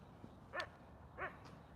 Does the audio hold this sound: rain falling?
no